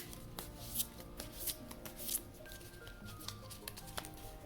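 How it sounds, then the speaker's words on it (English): A tarot deck based on the Supernatural series is stack shuffled by hand, giving a run of quiet, close-up card riffles and soft slaps that repeat at an uneven rhythm, with no talking. "There's the stack shuffling."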